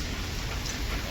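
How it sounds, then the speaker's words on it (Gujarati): Light, out-of-season rain falling steadily, a soft even hiss of drops with no breaks or voices. "કાલ રાતથી વરસાદ ચાલુ હોય ધીમો ધીમો ધીમો ધીમો"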